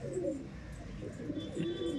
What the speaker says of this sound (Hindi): ये बड़ा कबूतर है मोरो वाला, ये पानी को देख रहा है।